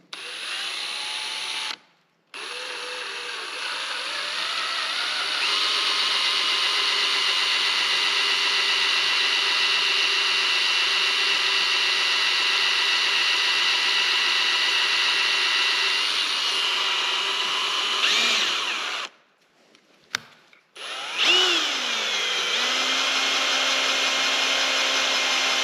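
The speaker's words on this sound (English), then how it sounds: "And now to drill the final set of holes here to allow us to clamp this together." Power drill boring holes through the frame of a box-store garden trailer, a sustained high whine running steadily for long stretches, with brief stops and restarts near the beginning and end.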